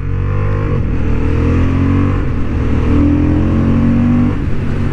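A Honda Hornet 750 motorcycle accelerating hard on a racing track, loud close engine roar rising in pitch through gears with brief dips at each quick-shifted change, steady and unbroken over the whole stretch.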